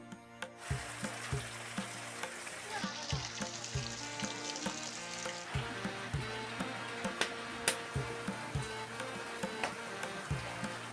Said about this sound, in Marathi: मस्तपैकी कांदा लसणीची चरचरीत फोडणी दिली